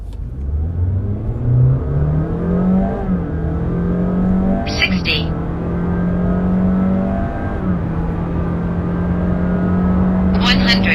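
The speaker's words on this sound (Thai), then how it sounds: "เดี๋ยวเรามาลองอัตราเร่ง0ถึง100 นะครับใน Honda City Hatchback ตัว EHEV Grade SV จะเป็นอย่างไร" A 2024 Honda City Hatchback e:HEV in SV grade accelerates hard from standstill toward 100 km/h. The engine note climbs steadily in pitch through the run, loud and continuous, with a brief talking voice over it partway through.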